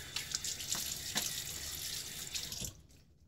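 Water running from a sink tap as a face is wetted before shaving, a steady close splashing stream with brief splashes, then the flow shuts off near the end, no talking.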